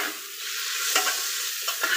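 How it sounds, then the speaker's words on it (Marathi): Two chopped tomatoes frying in a pan for chicken biryani, giving a continuous sizzle with a few brief scraping stirs near the end, heard alone. "यांना टोमॅटोला 2 मिनिटं तळून घेऊया"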